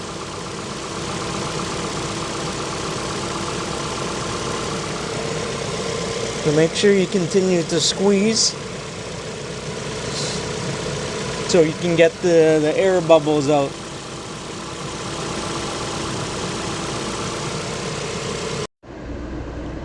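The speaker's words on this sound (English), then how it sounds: "we are getting less bubbles now, so we are going to shut the engine off very soon" A 2012 Ford Fusion 2.5 engine idles with a steady, even hum during a cooling system drain, fill and bleed. A person talks over it at times, and the hum drops out briefly near the end.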